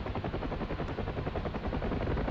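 Rapid, throbbing rotor chop from a helicopter under gunfire in a video game, loud and close with a steady pulsing beat throughout.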